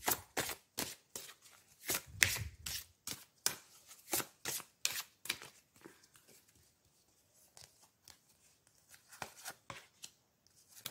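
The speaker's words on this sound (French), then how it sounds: "on va prendre une ou plusieurs cartes de l'oracle des anges de" Oracle cards of the angels of love being shuffled by hand, a close rapid series of crisp riffling flicks in bursts, pausing briefly midway before resuming more softly.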